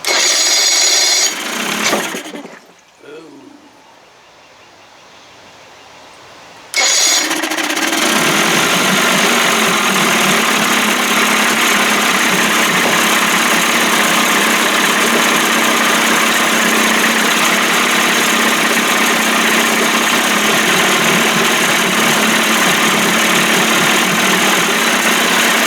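A 1989 Johnson Tracker 25hp outboard motor sputters briefly, falls quiet for a few seconds, then catches and runs steadily at a loud, constant idle for the rest of the time.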